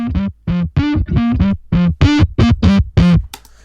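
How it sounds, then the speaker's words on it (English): Electronic bass line pitched up an octave and heavily distorted, heard alone as a rhythmic run of about a dozen short, buzzy, gritty notes with brief gaps between them. "I took the bass line and I pitched it up an octave and distorted the shit out of it."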